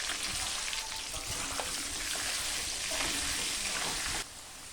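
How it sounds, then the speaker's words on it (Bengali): Potatoes coated in turmeric and salt frying in hot oil, a steady soft sizzle and crackle close by that holds evenly and then drops abruptly quieter near the end. "প্রথমে আমি আলুগুলো ভেজে তুলে নেব।"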